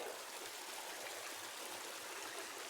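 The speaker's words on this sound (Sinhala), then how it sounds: "මෙතන අර ලස්සනට වතුර පාර බැහැගෙන යනවා නිකන් දිය ඇල්ලක වගේ" A village stream spills down over a drop like a small waterfall, a steady close rushing and splashing of flowing water that fills the scene without any voices.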